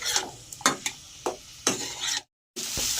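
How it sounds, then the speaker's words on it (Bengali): Boiled potatoes are stirred into fried spices in a pan, giving repeated scraping, rubbing strokes at an uneven rhythm, close and moderately loud, with a brief silent gap near the end. "এবার আমি সিদ্ধ আলুগুলো দিয়ে দেবো। ভালো করে মশলাগুলোর সঙ্গে মিশিয়ে দেব।"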